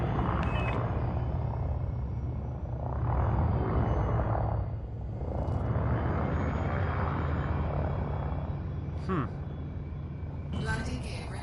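A spaceship in Elite Dangerous lifts off and departs, its engines a steady, swelling roar and rumble with whooshing surges, while a voice talks over it.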